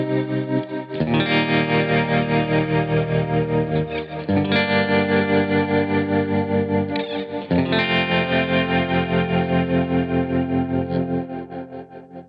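Electric guitar run through chorus, distortion and delay effects strums a 2-4-6-5 chord progression in a worship song tone, three long sustained chord phrases ringing loud and steady, played alone.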